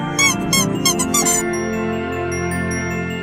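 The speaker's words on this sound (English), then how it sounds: "These little squeaky llamas" Small squeaky llama toys give several quick high squeaks in a rapid cluster near the start, then fall quiet beneath a soft steady background tone.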